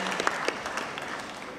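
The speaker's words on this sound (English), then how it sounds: "Now you can clap." Audience applause at a Global Fund replenishment pledging session, a brief wash of many hands clapping at moderate volume with a few distinct claps near the start.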